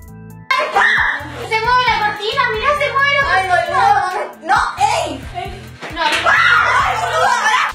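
People scream and shriek loudly and close during a paranormal encounter, with frantic voices, yelps and sharp smacks over a low rhythmic beat.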